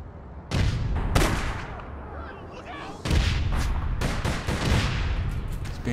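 Shotgun fire in the online shooter APB Reloaded: loud, heavy booming blasts in quick bursts over a dense, noisy battle backdrop, close and forceful throughout.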